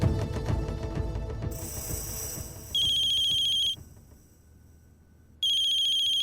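A mobile phone ringtone rings in a home during a family scene, with bright electronic tones. They come in two loud bursts separated by a brief pause, over low background music and room noise.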